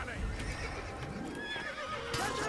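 A horse in the video game Assassin's Creed whinnies amid busy game sounds, with someone talking over it throughout.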